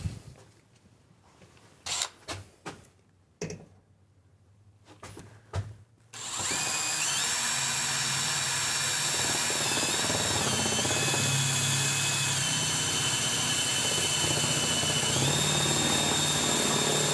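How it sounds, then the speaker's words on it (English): Power drill boring upward from underneath to cut an opening for an air conditioner, a few short clicks and bursts first, then a loud continuous whirring drill run with a shifting pitch that lasts to the end. "I'm going to go ahead and drill up under here"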